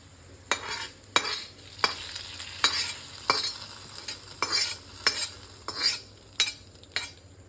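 Roasted tempering is stirred into a Kerala-style dal curry, with a metal spoon scraping and clinking against the pot in a steady rhythm of about a dozen strokes over a soft background sizzle.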